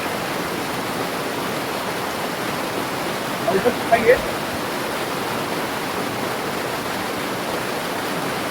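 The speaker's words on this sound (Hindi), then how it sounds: "ये पानी यहाँ से छोड़ा जा रहा है और ये पानी सीधा गंगा नदी में जाकर के मिल रही है यहाँ से।" Water gushes from a drainage pumping plant outlet into the Ganges, a loud, unbroken roar of rushing flow heard up close with a few brief clicks midway.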